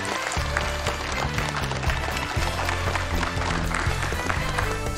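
A studio audience at a Chinese dating show applauds warmly to welcome the final guest, continuous dense clapping over loud backing music.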